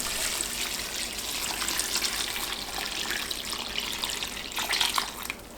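Seasoning liquid poured into water kimchi with radish and salted napa cabbage, a continuous close gushing splash of liquid that holds steady throughout.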